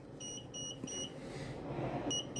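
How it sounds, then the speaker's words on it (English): A Procolored P13 DTF printer gives short, high electronic beeps in quick pairs, repeating a few times over a low room hum, close and clear. "it's beeping at me right now"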